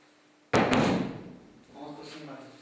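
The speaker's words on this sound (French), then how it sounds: "On entend un bruit de porte." A door bumps shut with a sudden, solid thud, its sound ringing out briefly before a muffled voice begins speaking in the room.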